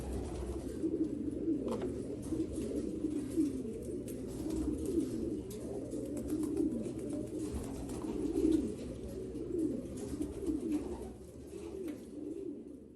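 Pigeons coo steadily in a loft, a dense overlapping chorus of low throaty calls at moderate volume with a constant background hum, no voices.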